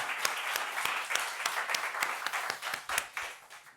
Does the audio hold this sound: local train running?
no